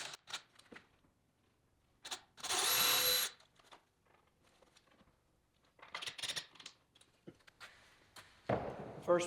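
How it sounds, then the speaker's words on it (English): A power drill drives screws into cabinets in a woodworking shop, with one loud, close whirring burst of about a second, later shorter bursts, and scattered clicks and handling clatter between them. "I need a couple drills and some screws."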